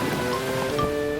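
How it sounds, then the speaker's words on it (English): Cartoon rain falls steadily in a soft, even patter during a storm scene, moderately quiet, with faint tonal music held underneath. "No, Daddy. It's raining."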